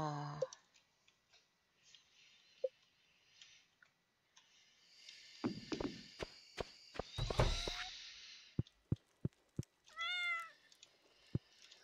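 In-game cat meows from Stardew Valley, a couple of short rising cries near the end among soft clicks, footsteps and brief bursts of game sound, with quiet stretches between.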